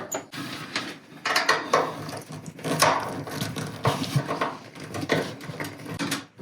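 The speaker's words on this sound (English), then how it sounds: "there's two screws in the back here that we need to take off, and this is going to help us to remove the top panel" Screws are worked loose at the back of an Electrolux washing machine with a hand tool, giving close, irregular clicks and scraping rattles that come in short bursts.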